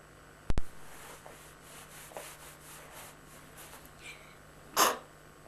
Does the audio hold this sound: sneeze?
yes